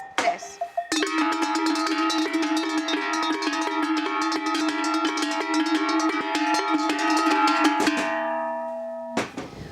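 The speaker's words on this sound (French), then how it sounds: "Au son des sonnailles" Traditional Pyrenean sonnailles, cattle bells some dating from the 1800s, ring together in a dense, continuous metallic clanging that stays loud and close for several seconds, then stops abruptly before one final strike.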